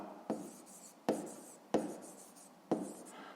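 Pen writing on paper during a fifth-grade maths exercise, four separate scratchy strokes with brief pauses between them, close and quiet, no talking.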